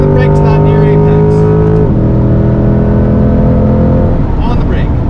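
Corvette C8 engine on the Spring Mountain race track, loud and close, revving up through the gears with a clear upshift, while an instructor talks over it.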